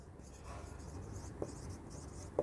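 Pen writing by hand on paper in a quiet room, a soft continuous scratching close by with a couple of small taps, no voices.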